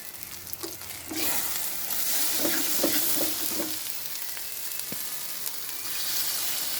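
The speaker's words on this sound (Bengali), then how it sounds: "হালকা একটু ঝুল দেওয়া লাগে মশলাটা কষানো শেষ হলে তারপরে মাছগুলো সাথে দিয়ে দিন" Spice paste with turmeric and coriander powder frying in a pan for a mashed fish bhorta, giving a steady close sizzle with a few soft stirring knocks and scrapes.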